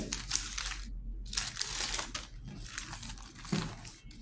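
A crinkly foil packet for bakery goods being handled and crumpled in bursts of sharp, close rustling with brief pauses, quiet overall and without talk.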